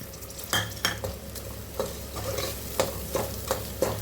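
Chopped tomato frying in oil for mutton paya curry, with a close, continuous sizzle broken by regular scraping knocks of a spatula stirring against the pan, about one stroke every half second.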